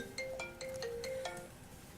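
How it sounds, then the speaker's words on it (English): A phone ringtone goes off during a town Board of Selectmen meeting, a short melodic electronic jingle of several quick rising notes, moderately loud over room hum. "she's getting a phone call"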